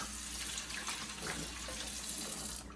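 Warm water runs steadily from a tap into a sink to soak motorcycle helmet pads, a continuous close hiss and splash heard alone without talk.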